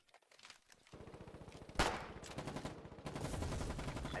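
Sustained automatic gunfire in the war game Foxhole, a rapid, evenly paced machine-gun rattle that starts after a quiet moment, with one sharp louder shot, then continues close and steady.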